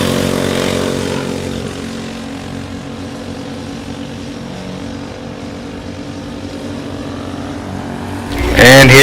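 Karts race round a track at a Liberty Raceway Park junior 2s race, their engines droning steadily as a loud continuous roar that swells near the end as a car passes close.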